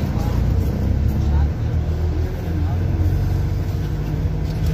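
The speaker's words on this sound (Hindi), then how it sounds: "ये गाड़ी जो है हमारी मेन रोड पर मुड़ने वाली है।" A vehicle turns onto a main road, its engine and tyre rumble loud and close over continuous traffic noise, with someone talking over it.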